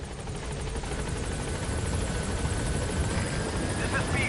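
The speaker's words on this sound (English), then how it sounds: "Helicopter." A helicopter arrives in the Metal Gear Solid V video game, its rotor whirring and thudding in a steady, moderately loud beat throughout, with faint radio voices over it.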